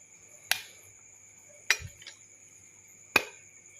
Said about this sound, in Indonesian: Kita tahan menggunakan obeng.